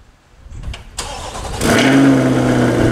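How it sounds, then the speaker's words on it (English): A 2020 Chevrolet C8 Corvette convertible cold-starts after a few faint clicks: the starter catches, the engine flares loudly, then settles into a strong, steady high idle, close by. "Let's go ahead and start this video off with a cold start. 2020 Chevrolet C8 convertible."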